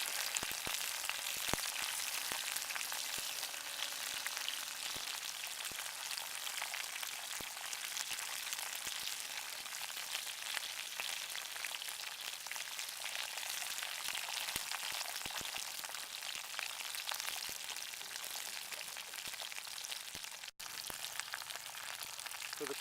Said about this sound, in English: Stir this around a bit with the good old stirring stick.